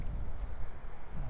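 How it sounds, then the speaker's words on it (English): Gusty wind buffets outdoors where a drone is about to fly, a low rumbling roar against the microphone that swells and dips over a second or so, with no speech. "Well, I'm afraid it's too windy maybe for the drone."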